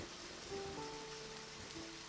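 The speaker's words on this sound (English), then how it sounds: "Get out the rain, Emily." Steady soft rain patter in the video game Deadly Premonition, a continuous wash of drops on a surface with faint tonal game sounds drifting over it, fairly quiet throughout.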